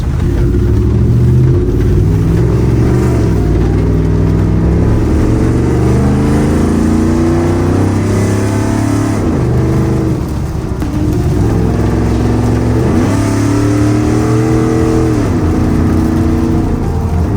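A tuned, lifted Ford F150 with a 5.0 engine on an E85 tune revs hard and loud, its pitch climbing and dropping through repeated pulls with brief dips between gears, heard continuously from inside the cab.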